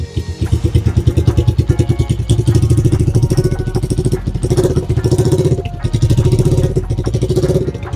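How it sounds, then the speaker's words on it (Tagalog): A motorcycle engine runs hard after an oil change with RS8 Synthetic 20w-50 oil, and its loud, close throb comes in rapid pulsing bursts that rise and fall repeatedly, carrying a rattling mechanical edge throughout. "So, i-rev natin ng konti."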